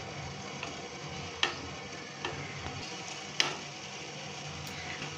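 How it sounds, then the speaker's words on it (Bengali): Kalojam sweets frying in oil, gently stirred and turned with a spatula: a faint steady sizzle broken by a few sharp clicks and scrapes of the utensil against the pan. "এবার একটা খুন্তি দিয়ে হালকা হালকা একটু নেড়ে দিতে হবে, একটু পাল্টে দিতে হবে।"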